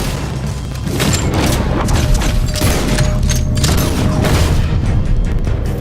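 Gunfire in Red Dead Redemption 2 during a robbery shootout: dense, continuous crackling volleys with thuds and booms, loud and sustained throughout, with no talking.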